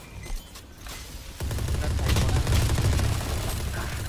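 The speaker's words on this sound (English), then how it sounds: "They got shotgun." Shotgun and other gunfire in the Valorant video game, a sharp blast followed by a dense, sustained burst of rapid shots, loud and close, with faint voices in the background.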